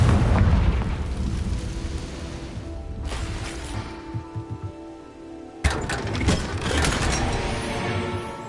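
The Confringo fire spell going off in the video game Hogwarts Legacy, a loud rumbling fiery blast that fades into crackling, followed by a second sharp burst and another rolling roar.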